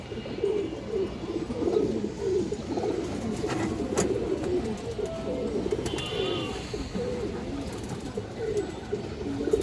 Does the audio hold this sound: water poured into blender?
no